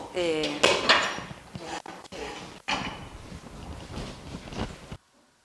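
A metal lid settles onto a cooking pot of plantain and pork with several clattering knocks, a sharp ring near the start followed by a few duller clanks, with a person talking over it.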